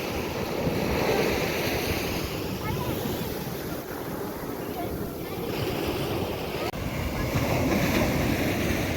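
Steady rushing surf of ocean waves on the shore at Madhavpur Beach, Gujarat, broad and continuous, with wind buffeting the microphone throughout.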